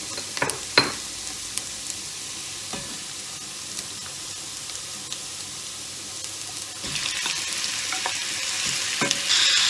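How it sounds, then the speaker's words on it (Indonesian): Onion and chicken sauté in a non-stick pan, giving a steady broadband sizzle with a few sharp stirring clicks. The frying grows louder and brighter near the end. No voices. "Ini bawang bombaynya akan saya tumis hingga kecoklatan ya."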